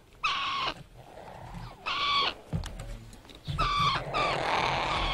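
African grey parrots in a trade shipment let out loud, harsh squawks in three bursts with short quiet gaps between them, near and with no voices.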